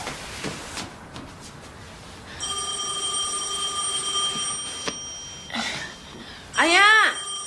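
A telephone rings indoors in a Korean film scene, with a steady electronic ringing that holds for a few seconds against background noise, followed by a loud shouted voice.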